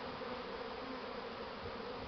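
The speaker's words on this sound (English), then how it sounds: "Successful bee swarm catching," A honey bee swarm hums as it files into a hive during swarm catching in Kentucky, a steady close buzzing drone that holds even throughout with no talk.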